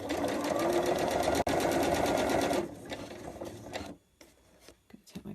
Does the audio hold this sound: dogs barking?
no